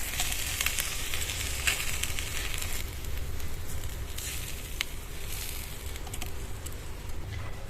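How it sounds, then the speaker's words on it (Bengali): Raw fish frying in a little oil over a high flame, flipped over in the pan: a loud, steady crackling sizzle with scattered sharp pops, heard alone throughout. "সব সাইড দিয়ে উল্টে পাল্টে মাছটা পুড়িয়ে নেব"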